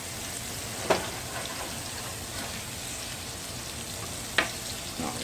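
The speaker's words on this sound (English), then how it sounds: "I'm going to let that cook around for a minute." Vidalia onion fries in a pan for hamburger steak with onion gravy, a steady close sizzle like light rain, broken by two sharp stirring clicks.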